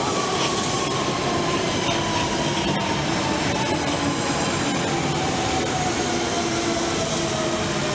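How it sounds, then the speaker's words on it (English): A London Underground Central Line train passes nearby, a steady loud rumble of rails with a long drawn-out wheel squeal holding throughout and faint clickety-clack, no voices. "Also another Central Line train"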